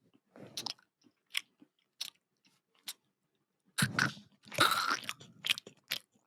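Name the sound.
chewing and crunching food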